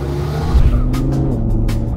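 A Lamborghini sports car drives off and accelerates, its engine a loud, steady roar close by with a brief surge, heard alone without voices.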